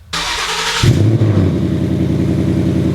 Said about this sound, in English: So the car sounds pretty good, like the cold startups,